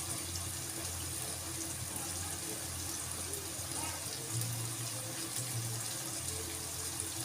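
Water runs steadily into a mixture in a home kitchen, a continuous rushing, gushing pour that stays fairly even throughout with a low hum underneath.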